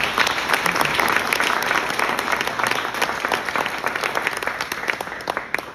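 Dense, sustained applause from an audience at a key-to-the-city ceremony in a hall, steady and fairly loud throughout.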